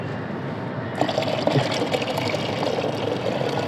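Water from soaked, rotted onion peels is poured onto a tomato plant, a close, steady splashing stream starting after a brief quiet moment and continuing to the end, with no talking.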